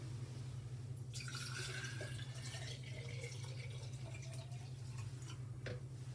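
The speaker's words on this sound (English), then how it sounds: "Dr. Yah, please fill the jar with water" Water poured from a container into an empty glass jar, heard as a faint trickle and splashing against the glass over a steady low hum, with no talking.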